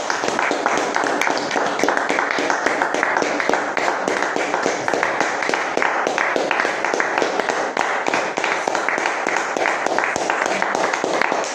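A church congregation claps in praise to the Lord Jesus, a dense, steady rhythmic patter of many hands that stays loud and close for the whole stretch, with voices faintly mixed in.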